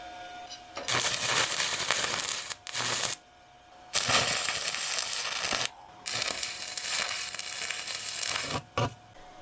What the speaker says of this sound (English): Let's see if I remember how to stick weld.